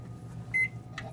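A microwave oven heats agarose in a lab, its steady low hum running throughout with a short bright beep and a faint click near the end.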